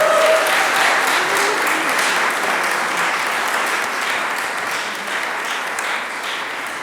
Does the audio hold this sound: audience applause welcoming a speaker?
yes